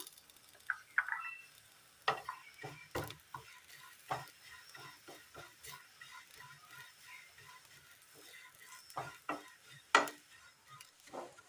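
Chopped shallots sizzle in a pan of oil for a Kerala curry, a faint, soft frying hiss broken by sporadic clacks and scrapes of a spatula stirring.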